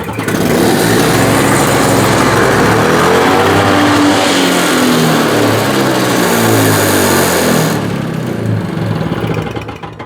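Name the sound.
Toro snowblower engine revving with sticking throttle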